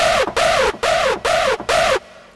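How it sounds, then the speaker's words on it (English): Generic classic hardstyle screech synth patch from the Lussive Audio Screech Designer plays five loud, bending bursts in a steady rhythm, with short gaps between them, then drops away into a brief fading tail. "this is a pretty generic classical hardstyle screech"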